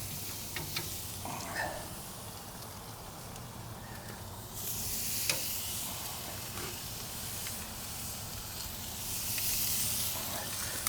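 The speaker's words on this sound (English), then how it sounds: "All right, so we're getting ready to cook this fajita meat up." Fajita meat hisses and sizzles on hot grill grates over a blazing wood fire, a steady close spitting roar that swells in two louder bursts, with faint crackles throughout.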